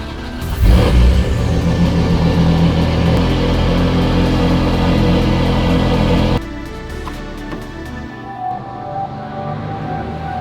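An Acura NSX NA2 engine running close by, a loud steady rumbling idle with a brief rev near the start, then the engine cuts to a quieter background hum with faint clicks.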